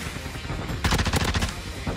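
Rapid burst of Tempus Razorback assault rifle fire in the Modern Warfare II video game, loud and close, starting partway through after a quieter lead-in with a short rattling string of shots.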